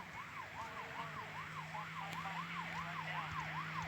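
A police car siren in a video game wails up and down in a steady, continuous cycle. It is loud and close, with no one talking over it.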